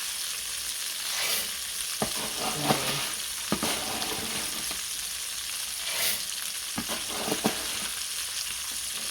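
Alga noodles stirred in a pot with bay leaves, a broadband hiss running throughout with scattered scraping clicks from the utensil, moderately loud and close, no voices.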